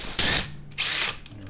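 A Ryobi cordless power tool drives wheel hub lug nuts on a Malibu rear hub, two short loud whirring bursts separated by a brief pause, close up with no talk.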